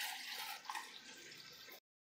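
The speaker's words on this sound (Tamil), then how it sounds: "இதால் 1/2 கப்பு தண்ணி சேர்த்துக்கலாம்." Half a cup of water pours into a pan of egg kurma, a quiet, steady splashing stream that runs for almost two seconds and then stops abruptly.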